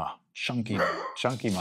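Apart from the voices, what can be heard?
dogs barking in background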